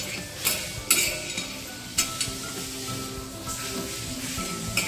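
Coriander seeds and cumin are stirred in a hot, dry pan: a soft sizzle broken by sharp scraping strokes of a spoon, several in quick succession.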